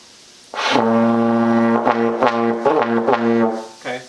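A brass instrument sustains a loud, buzzy low note that wavers, breaks several times and fizzles out near the end, played up close in a lesson setting.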